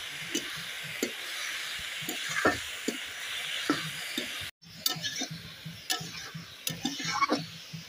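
Food seasoned with salt and turmeric is stirred in a pan: repeated light scraping ticks over a soft sizzle, a brief silent break, then more stirring strokes.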